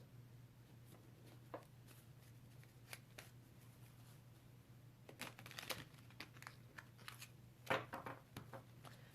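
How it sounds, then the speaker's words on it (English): A square, squat tarot deck is shuffled by hand in quiet bursts of soft riffling, tapping and card slaps, with a louder flurry near the end over a low steady hum. "This deck is very difficult to shuffle because it's so square and squat"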